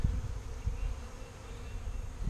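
Saskatraz honey bees being installed from a package hum in a low, steady buzz close by, with soft bumps and handling noises underneath.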